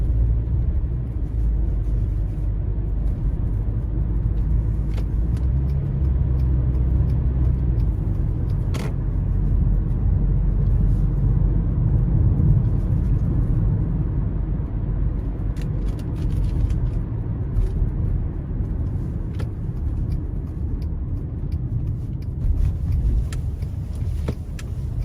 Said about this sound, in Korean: 엔진 부분을 가장 중점적으로 확인을 해보면서 시운전을 해보고 있고요.